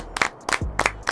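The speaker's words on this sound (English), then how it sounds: "Everybody clap it up." Studio audience clapping in a radio show studio as a guest walks in. A few short, separate claps come in quick bursts, with a voice briefly heard between them.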